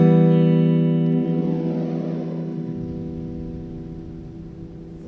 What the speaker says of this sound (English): The reverb here is really made by smearing a bunch of very short delays together.